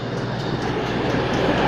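A CrossCountry passenger train bound for Plymouth rumbles steadily through Durham station, a continuous close, loud rolling roar with no talk.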